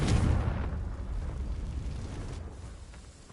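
Fire spell blast igniting dry vines in the Hogwarts Legacy video game, a dense roaring whoosh that starts loud and slowly fades over a few seconds, with no voices.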